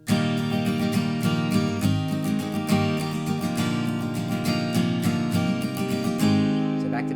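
Guitar strummed with a yellow pick tilted at a slight angle, a run of crisp, evenly spaced strokes ringing bright and close, alone without any voices.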